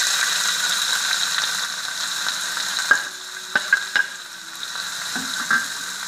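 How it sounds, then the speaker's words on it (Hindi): Onion frying in about three tablespoons of hot oil on a stove, a steady close sizzle with a few light clicks and taps of a utensil over it. "प्याज गर्म हो गया है, 3 टेबलस्पून तेल डाला है हमें"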